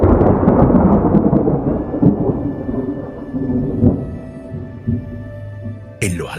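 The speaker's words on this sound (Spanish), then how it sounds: "Un trueno resonó incluso sin relámpago." Thunder rolls in a deep, loud, sustained rumble that slowly fades, and a sharp crack bursts in near the end.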